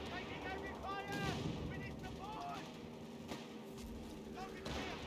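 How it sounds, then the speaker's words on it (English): Rapid gunfire and muffled grenade blasts rumble continuously through a noisy battle scene in the video game Company of Heroes 3, with faint voices mixed into the din. "Grenade. Explosions."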